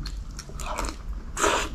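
Noodles being chewed close up, with a few soft wet bites and crunches building to a louder burst of chewing near the end.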